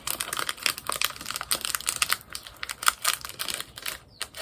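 Crinkly plastic wrapping on a pack of Kinder chocolate cards is torn and pulled open up close, a steady run of sharp rustles and crackles with no talking.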